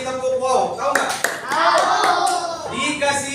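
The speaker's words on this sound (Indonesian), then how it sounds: "kelompok 2 kita kasih tepuk wow" Fifth-grade pupils at an elementary school in Bandungrejosari perform a rhythmic classroom clapping cheer, with a few sharp, close claps among loud, overlapping children's chanting voices.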